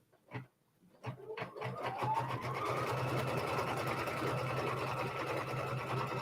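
A sewing machine stitching a quilt block whirs up after a couple of short clicks, then runs in a fast, steady mechanical rhythm, close and alone.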